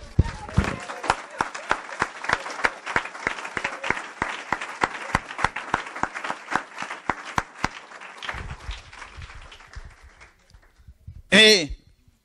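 A church congregation bursts into rhythmic clapping and cheering to acclaim Jesus Christ, a dense hall full of steady beats that fade out, followed by a brief loud shout or cheer near the end.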